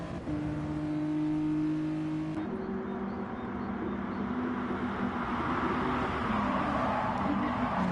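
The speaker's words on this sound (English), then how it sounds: "That V6 mid-mounted engine really sounding sweet on these little Clios." A Renault Clio V6 with its mid-mounted engine in the racing game GT Sport drones with a steady, tonal whine that drops in pitch after a gear change and then climbs smoothly, loud and continuous without talk.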